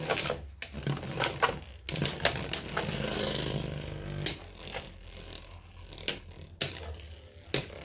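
Beyblade Burst spinning tops launched into a stadium, clattering and scraping in continuous rattling bursts with sharp metallic clacks as they collide, with several loud hits spread across the clip.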